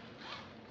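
Zipper on a crossbody bag pocket pulled in one quick, quiet, close stroke, with nothing else audible.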